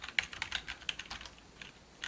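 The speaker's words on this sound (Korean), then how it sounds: "키보드의 화살표 위쪽 화살표 키를 누르면" Arrow keys on a computer keyboard are tapped in a quick, uneven run of light plastic clicks, close and quiet, with no talking.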